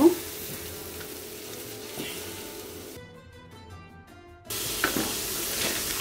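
Ground spices (cumin, chili powder, garam masala) frying and being stirred in a pan for iftar cooking, a steady close sizzle with scraping strokes that drops out briefly in the middle before resuming.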